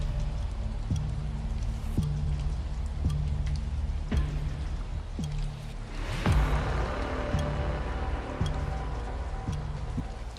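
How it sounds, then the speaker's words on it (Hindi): Heavy rain hisses steadily in a broad wash, with faint scattered drip ticks and a brief rush of water near the middle, all fairly close and without any voices. "अचानक तेज बारिश शुरू हो गई"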